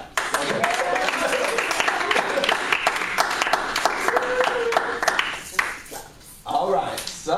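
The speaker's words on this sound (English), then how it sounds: "Clap." A room of people applauding at the end of a lab session, with dense, continuous clapping that fades and breaks up toward the end while voices chatter underneath.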